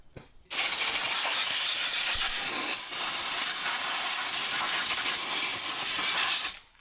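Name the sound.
air hissing from leaking airbox gasket on Detroit Diesel 6-71 engine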